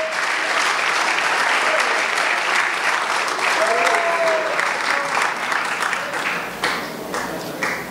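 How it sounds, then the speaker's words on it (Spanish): Strong congregational applause at a Spanish-language church service, dense and steady clapping from a crowd lasting the full stretch, with faint voices mixed in. "Dele fuerte el aplauso al Señor."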